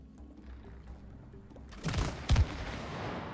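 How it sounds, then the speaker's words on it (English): A couple of sharp gunshots from a video game, one then a louder second blast close together, rising out of a low background rumble. "Wait, now I can use my gun apparently."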